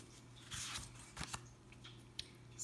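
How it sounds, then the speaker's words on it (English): Scissors snip several times in quick, uneven bursts, each cut a crisp close-up crunch separated by brief quiet gaps. "Snip. Use those scissors."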